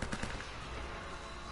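Rapid automatic gunfire in the Uncharted: Drake's Fortune video game, a short dense rattling burst, loud and continuous for about a second and a half.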